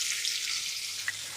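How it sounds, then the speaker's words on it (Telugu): Onions sizzling in hot oil with curry leaves on a stove, a steady close frying hiss with a brief crackle near the end, no voices. "ఇప్పుడు స్టవ్ని మీడియం ఫ్లేమ్లో పెట్టుకొని ఉల్లిపాయ రంగు మారేంత వరకు వేయించుకుందాం"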